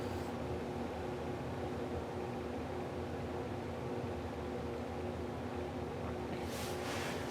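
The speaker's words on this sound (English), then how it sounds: "Back to high. And spin down before I put in reverse." Vintage Zayre 20-inch box fan winding down from high speed, a steady whooshing hum of moving air with a faint motor tone, close and continuous, with a brief rustle near the end.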